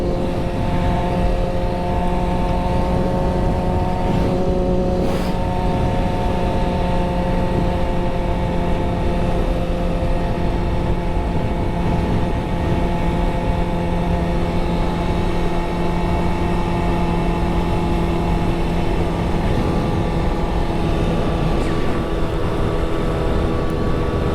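Kawasaki ZX6R motorcycle riding with a 650 following behind, a loud steady engine drone with held whining tones and rushing wind noise, constant and close throughout.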